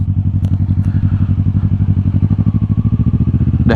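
A 2017 Kawasaki Ninja 650 parallel-twin engine thrums steadily while riding, a loud, close, rapid pulsing drone with faint clatter and wind, without any talk.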